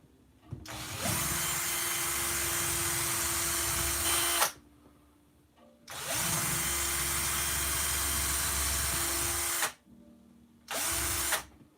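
A power drill drills out holes in handmade hand parts ready for wire. Two loud, steady whirs of nearly four seconds each are followed by a brief final burst, with short quiet gaps between.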